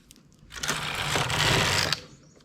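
A domestic knitting machine with a ribber carriage pushed across the needle bed, a steady close mechanical whir and rattle lasting about a second and a half, alone.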